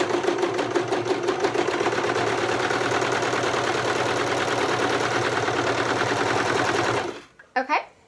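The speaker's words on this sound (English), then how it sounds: "I'm just going to go ahead and serge this together." A serger runs continuously while sewing a seam, giving a fast even mechanical whir that stops abruptly near the end, followed by brief handling noise.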